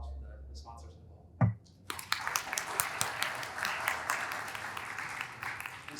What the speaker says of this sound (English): So just a round of applause for the sponsors involved.